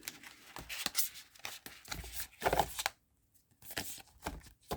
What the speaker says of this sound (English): Kind of hard to shuffle these because of their hexagonal shape, right?